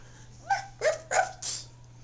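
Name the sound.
child imitating a dog barking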